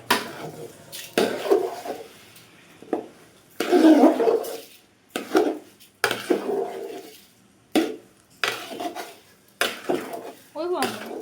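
Rice dry-roasting in a pan, stirred in uneven bursts of scraping and rattling grains against the metal, close by, with short pauses between strokes.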